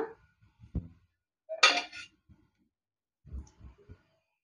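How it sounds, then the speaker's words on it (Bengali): A metal plate is set into a pot of hot water on the stove, making a few scattered clanks and one bright metallic clatter. Quiet gaps separate the knocks. "এই জল গরমের মধ্যে থালাটাকে দিলাম"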